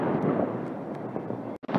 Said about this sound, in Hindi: यहाँ चारों तरफ बम पटाखों की आवाज़ तो आ रही है